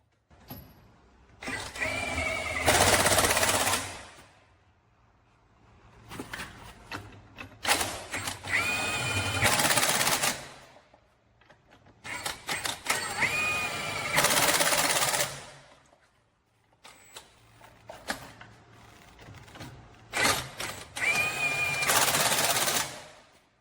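Milwaukee M18 FUEL cordless 1-inch D-handle impact wrench loosening a wheel, four loud hammering bursts of several seconds each separated by pauses, with rattling impact clatter close up.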